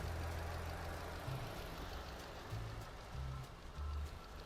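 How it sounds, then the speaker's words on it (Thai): Low, steady Chevrolet Cruze 1.8 LS engine rumble idling continuously, with a few brief swells in pitch; a broad hiss sits over it throughout. "เนี่ยเครื่องยนต์เดินประมาณนี้ไม่รู้ว่าเสียงมันเข้าไปได้ยินไหม"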